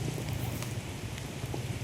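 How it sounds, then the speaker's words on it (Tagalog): Sudden rain falling outdoors, a soft constant patter and hiss with a low rumble beneath, faint and even over a short stretch. "biglang naulan"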